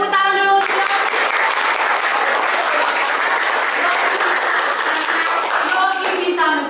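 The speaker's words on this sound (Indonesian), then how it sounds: "Iya, tepuk tangan dulu." Classroom applause for a student's answer fills the room, a dense, steady clapping from many children that starts abruptly and breaks off near the end, loud and close, with brief voices at the edges.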